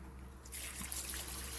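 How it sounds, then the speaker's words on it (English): Isopropyl alcohol, 99.9% strength, is poured over a Toluca iron meteorite slice in a container, giving a soft, close trickling splash that begins abruptly and continues quietly as the liquid fills around it. "I'm just going to cover it with about a ½ inch of alcohol"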